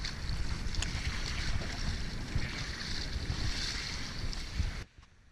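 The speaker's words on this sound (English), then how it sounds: "I took Roni and Tyler in the dinghy to the island where they could be picked up" A dinghy motors across open water toward an island, a steady rushing wash of water and hull noise with a low motor drone, continuous until it fades at the end.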